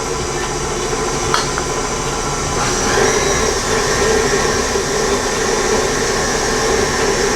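Electric mixer beating eggs into chocolate tart batter, a loud, continuous motor whir with a rattling beater clatter throughout, close by and without talk.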